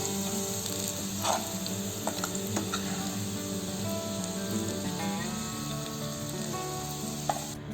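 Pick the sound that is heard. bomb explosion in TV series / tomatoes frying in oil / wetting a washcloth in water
tomatoes frying in oil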